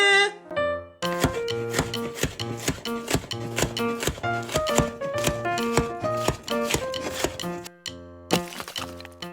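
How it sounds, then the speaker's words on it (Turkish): Rapid knife chops through chicken breast on a cutting board, a fast irregular series of sharp close knocks with brief pauses, alongside background music. "Hadi tavuk göğsü doğrama zamanı."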